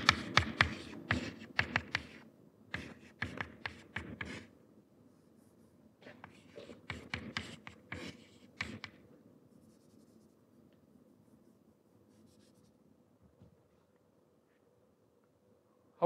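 Chalk or marker tapping and scratching on a board during a lecture, faint bursts of quick strokes with pauses, then falling quiet.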